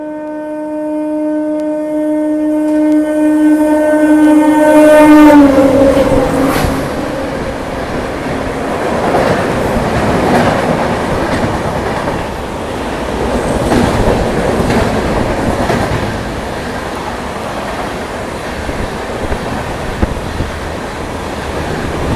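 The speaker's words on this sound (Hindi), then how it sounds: "लो जी, आ गई पुणे AC दुरंतो" The Pune AC Duronto Express overtaking on a parallel track sounds a long horn, then thunders close by with a loud, sustained rushing rumble and rhythmic wheel clatter that slowly eases.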